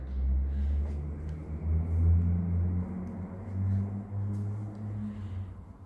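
An MK3 Volkswagen Golf with an aftermarket exhaust runs with a deep, steady engine rumble and low exhaust drone, swelling slightly as revs rise and fall, close by and alone with no talk.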